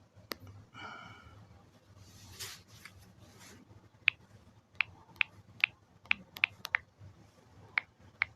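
Sharp, isolated taps of a phone's on-screen keyboard arrive one after another, about ten light clicks spaced irregularly over a quiet, low room hum.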